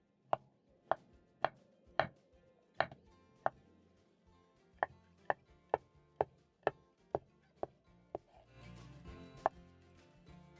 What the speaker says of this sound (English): So I'm going to cut into strips just like this, slice and dice.